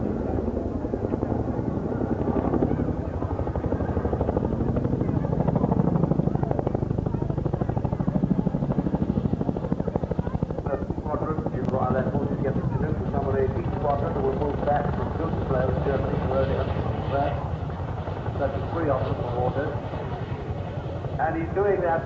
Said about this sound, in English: Twin-engine, heavy-lift helicopter, designed to the very severe requirements of the United States Army.